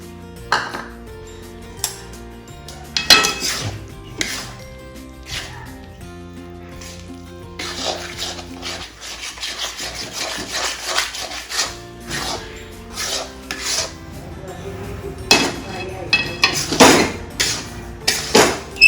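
Jaggery being mixed into sukhdi in a pan, with repeated scraping and rubbing strokes of a spoon against metal in uneven bursts, close by and without speech.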